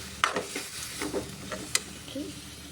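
Soft sizzling of vegetable curry in a pan as water is added bit by bit, with a few scraping stirs and clinks, continuous frying noise underneath, moderately close.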